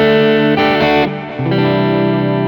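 Clean electric guitar amp tone on a Quad Cortex with a compressor pushing the front of the amp, in a preset: several strummed chords with even, sustained ring and a touch of grit, loud and alone.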